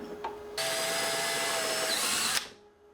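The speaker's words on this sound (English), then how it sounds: "I need to drill holes here" A power drill bores a hole into a wall for mounting a battery bracket, one continuous close whine lasting about two seconds before cutting off abruptly, preceded by a faint tap.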